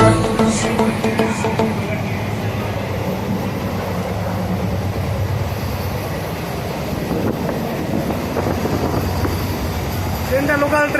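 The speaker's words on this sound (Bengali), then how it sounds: "ট্রেনটা লোকাল ট্রেন, সুবিধা খুব সুন্দর, খুব ভালো সুবিধা।" A local passenger train runs with a steady, loud rumble and rattle throughout, heard close from on board, with no talk.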